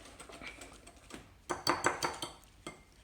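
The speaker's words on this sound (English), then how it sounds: "we're going to take a whisk and we're going to stir the fudge and Cool Whip together" A whisk clinks and scrapes against a bowl while fudge and Cool Whip are stirred together for an ice cream sandwich cake, light irregular taps at first, then a louder burst of rapid clicking strokes near the middle.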